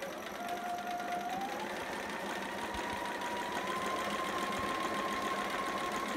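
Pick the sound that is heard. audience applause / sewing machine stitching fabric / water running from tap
sewing machine stitching fabric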